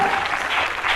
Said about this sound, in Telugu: చప్పట్లు కట్టి దేవుని మహిమపరుస్తావా?